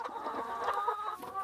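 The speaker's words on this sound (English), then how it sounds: "birds are released into the dawn, free to forage for insects and reclaim their natural heritage" Free-range hens cluck and murmur at dawn while foraging for insects, a close, continuous chatter of several birds with overlapping short calls.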